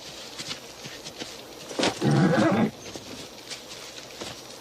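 A horse lets out a loud, close whinny lasting under a second, with faint shuffling and hoof sounds around it.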